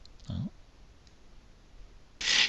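Two sharp computer mouse clicks advancing a Windows 7 slideshow, one soft and one louder, spaced about two seconds apart in a quiet room.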